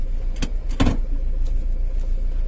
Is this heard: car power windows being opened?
yes